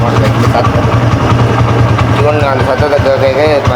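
A motorcycle engine idles loudly and steadily nearby, its low rumble continuing while a person talks over it.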